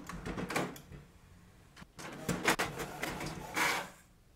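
A Canon MAXIFY MB2720 printer prints a page with mechanical whirring, feeding rattles and clunks that rise and fall over several seconds, close by in a quiet room.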